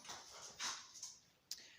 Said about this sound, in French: Si vous entendez du bruit, ce n'est que mon chien qui est en train de jouer derrière.